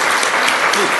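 Dense, loud audience applause at a 2005 caucus kickoff reception and technology fair, a continuous wash of many hands clapping close by, with faint crowd voices mixed in.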